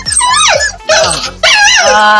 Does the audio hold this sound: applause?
no